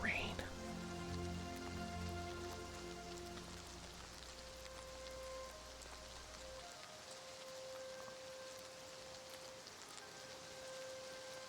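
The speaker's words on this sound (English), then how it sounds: "Rain with the headphones on sounds really nice." Rain falls in the Oblivion Remaster open world as a soft, steady patter, with a sustained musical tone over it that fades after the opening seconds, leaving quiet rain and faint tones.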